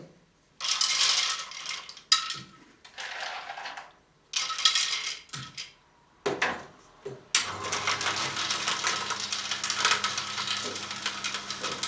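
Peanuts poured into an Omega 8004 juicer for nut butter, heard as a series of dry rattling clattering bursts separated by short pauses, then a steady continuous grinding rattle as the machine runs.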